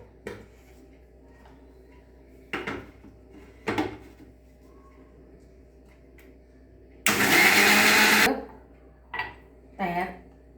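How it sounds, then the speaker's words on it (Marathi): A kitchen mixer grinder blends a curd-based summer drink (mattha) in one short, loud burst of about a second. Scattered knocks, clinks and faint voices come before and after it. "आता आपण हे मिक्सरमधनं फिरवून घेऊया"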